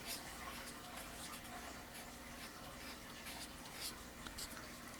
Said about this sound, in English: use the blender pen a little bit